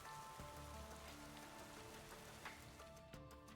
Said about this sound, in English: Only the sound of the rain remains in the back alley.